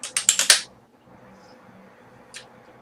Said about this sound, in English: I'm typing that in.